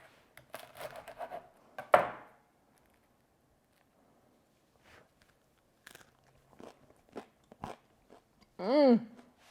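A bite into homemade sourdough bread makes one loud, crisp crunch, followed by faint chewing clicks, with speech before and after.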